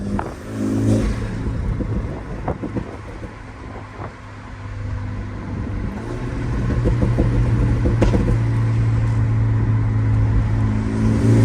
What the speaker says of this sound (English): And you could hear the intake sucking in the ear too.